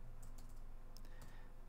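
Computer keyboard being typed on while coding in Unity, a few quick, faint clicking keystrokes in a short burst over quiet room tone.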